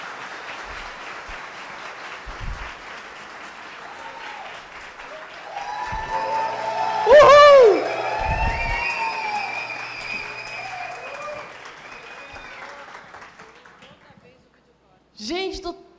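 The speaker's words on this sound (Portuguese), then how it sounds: "Recebam com uma salva de palmas" An audience applauds to welcome investor and businesswoman Camila Farani onto the stage, a sustained wash of clapping mixed with music and voices that tapers off near the end.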